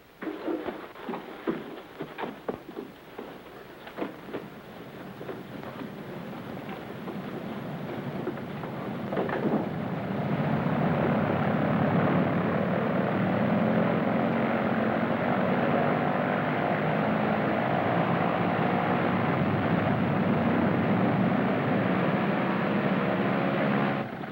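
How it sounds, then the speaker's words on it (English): A German propeller airplane flies overhead, its engine drone starting moderately and then swelling around the midpoint into a loud, steady, continuous roar that holds to the end, with no voices. "In a German plane?"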